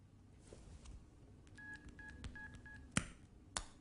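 Telephone keys are pressed to dial a number, a short run of evenly spaced electronic tones, followed by two sharp clicks near the end, faint and close with no talk.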